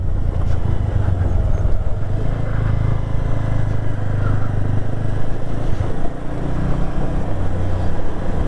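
Bajaj Avenger 160 motorcycle ridden along a mountain road in Nathang Valley, East Sikkim, a steady low engine drone with wind rumble, close and continuous throughout.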